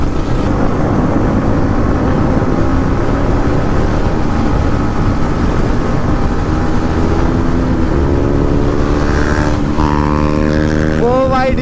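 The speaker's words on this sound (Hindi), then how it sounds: "आवाज चेक कर रहे हो भाई क्या आवाज है यार इस बाइक की।" A loud, steady motorcycle engine roars close by, revving up near the end with rising tones; no speech can be made out.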